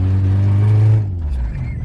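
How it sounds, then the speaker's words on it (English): A small minibike engine, started by pull cord, runs loud and close with a strong low rumbling drone that holds steady then cuts back abruptly to a quieter idle. "Minibike's right there. Just pull the cord,"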